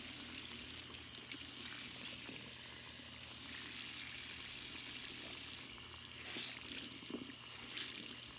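Water runs steadily from a tap while a paint brush is rinsed under it, a close, continuous splashing hiss that briefly dips and swells.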